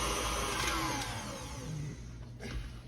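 Electric mixer whirring steadily as it beats cold sweet potatoes with butter, a continuous close motor drone that dips slightly in tone partway through.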